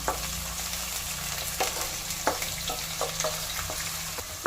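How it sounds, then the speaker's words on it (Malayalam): Large onion frying and being stirred in a pan while cooking chicken mqluba, a steady close sizzle broken by repeated scraping stir strokes, with no voices. "നമുക്ക് ഒനിയൻ ചേർക്കാം."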